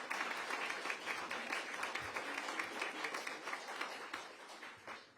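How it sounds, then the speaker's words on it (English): Sustained audience applause at an outdoor ribbon cutting for a senior apartment building, dense steady clapping from a crowd lasting the full stretch without pause. "Can we give Michael a round of applause?"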